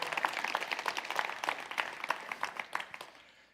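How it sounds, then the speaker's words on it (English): An audience at a developer conference claps together, a dense patter of many hands close by. It holds steady for a few seconds, then thins and fades out. "Yeah, you can clap."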